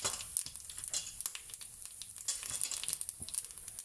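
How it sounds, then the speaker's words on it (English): Cumin seeds sizzle and crackle in hot oil over a low gas flame, with a steady frying hiss broken by frequent sharp pops throughout, close and fairly quiet, no voices. "now I am going to add a little bit of cumin"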